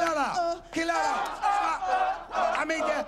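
Crowd chanting along with a performer at a live show, loud rhythmic voiced shouts in several bursts separated by brief dips.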